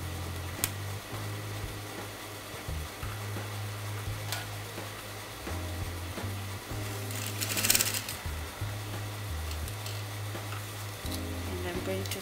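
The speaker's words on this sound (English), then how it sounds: "And I'm going to sew that to the next side." A sewing machine stitches a zip onto fabric at a neckline, a close mechanical rattling hum that runs in bursts with brief pauses and restarts, with no speech over it.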